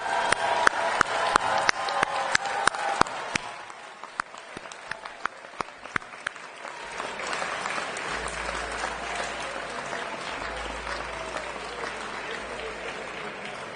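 Audience applause fills a graduation ceremony hall at Central European University, starting loud with sharp individual claps standing out, then thinning and settling into a softer, steadier sustained clapping.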